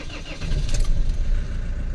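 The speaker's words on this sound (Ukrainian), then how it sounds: "треба завести машину" An Iveco Daily van's engine cranks and catches, settling into a loud, steady idle close by with no talking.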